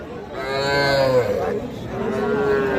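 A crossbred bull calf moos loudly nearby, one long drawn-out call followed by a second shorter bellow, with no talking over it.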